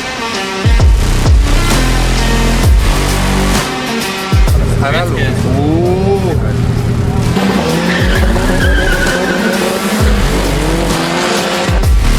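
Mercedes C-Class W202 with a 3-litre diesel on a concrete drag strip, engine droning loudly and steadily throughout with tire squeal and skidding sweeps, while a voice talks over it.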